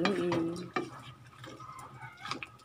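Pork adobo with ketchup stirred in a pan, a few scraping and clinking utensil strokes over a faint sizzle, close and fairly quiet, with some brief voice sounds at the start.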